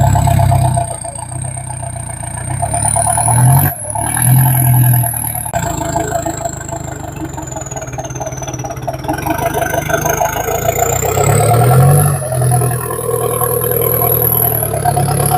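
A tractor engine runs steadily during a trolley-pulling contest after a gear change, with a constant loud low rumble, mechanical clatter and a high whine that rises and falls.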